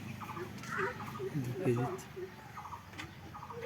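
A live rooster, handled while being weighed at home, gives short clucking and squawking calls in bursts while people talk around it.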